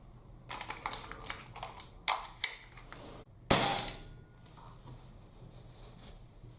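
Gamo C15 CO2 blowback air pistol firing pellets: a run of sharp, close clicks and snaps, then one louder crisp crack with a hissing tail near the midpoint, followed by quieter faint mechanical noise.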